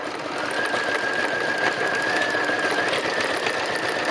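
A sewing machine doing free machine embroidery runs steadily and continuously at a moderate level, a fast even whir with a faint high whine, and no talking over it.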